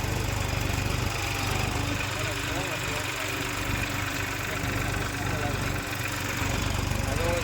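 A farm tractor runs hot in a field after harrowing, its engine holding a steady, loud, droning idle close by for the whole stretch, with faint knocking pulses and no voices over it.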